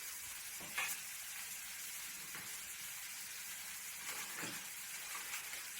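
Apples and butter fry in a hot pan with a soft, continuous sizzle and hiss, broken by a few faint stirring swishes, quiet and without speech.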